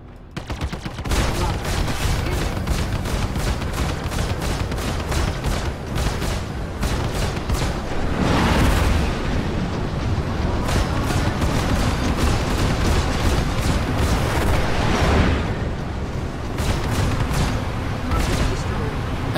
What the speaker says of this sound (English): Let's start with a missile attack.